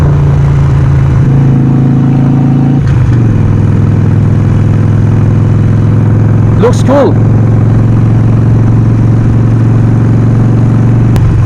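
An air-cooled 1200cc Harley-Davidson Sportster 48 with an aftermarket air intake runs loud and close, a steady idle with a brief rev change partway, while a person briefly speaks over it.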